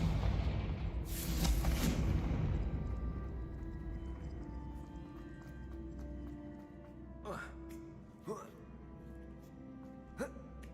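Confringo, an explosive spell in the Hogwarts Legacy video game, goes off as a loud burst of blast and crackle, then fades under ambient game sound with a few sharp smaller hits, while a player talks.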